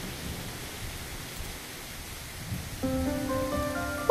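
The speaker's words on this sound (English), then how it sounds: "Okay, so it's raining." Steady hiss of rain falling in the video game So Lonely, a continuous soft wash throughout, joined near the end by gentle tonal music.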